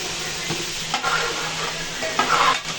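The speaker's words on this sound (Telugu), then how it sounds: "నూనెలా కొంచెం సేపు వేయించుకోవాలి." Cauliflower florets fry in hot oil, with a steady sizzle and a few louder scrapes as they are stirred in the pan for a restaurant-style curry.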